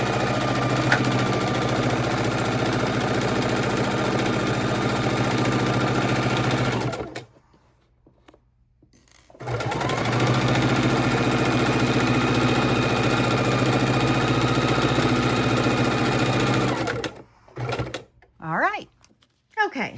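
A sewing machine running long steady stitching bursts on a tote bag, a loud continuous mechanical whir that stops for a pause, then resumes before ending in short taps.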